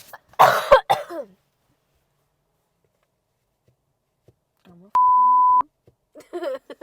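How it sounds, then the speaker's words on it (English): A woman gives a couple of harsh coughs up close, followed by a long stretch of silence, a single steady electronic beep, then a few more faint sounds. "She coughed again"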